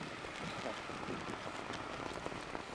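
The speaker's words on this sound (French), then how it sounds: "Et je me suis fait bloquer par la pluie. Il y a un cyclone qui passe à côté de la région." Heavy rain from a passing cyclone pours steadily in a gold-mining region, a dense continuous hiss of drops drumming on surfaces with no pauses.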